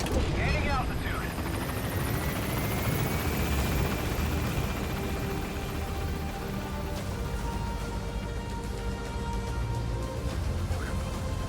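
A helicopter in the video game Metal Gear Solid V gains altitude. It makes a loud, continuous rotor drone with a slowly rising whine that fills the whole stretch.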